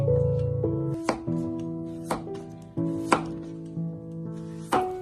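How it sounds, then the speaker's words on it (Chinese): A knife cuts a peeled carrot diagonally into short pieces on a board, five or six crisp chops spaced about a second apart, close and clear in a quiet room. "斜刀把它切成小段"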